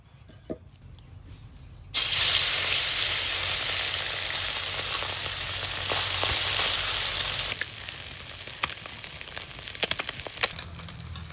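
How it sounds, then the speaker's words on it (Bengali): Chital fish pieces frying in hot oil: a loud, dense, steady sizzle starts abruptly and hisses continuously, easing slightly toward the end with scattered pops and crackles. "মাছটা একদম সুন্দর লাল লাল করে ভেজে নিয়েছি"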